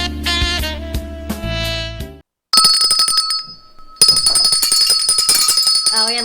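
A bell rings on a live café-style TV broadcast, a bright sustained chime with steady ringing tones that starts after a burst of music and a short silence, then restarts and carries on loud and continuous.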